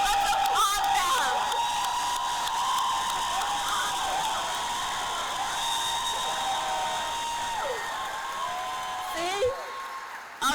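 A crowd at a North Carolina political rally for the vice president applauds and cheers in a dense, steady roar lasting the whole stretch, with a voice talking over it.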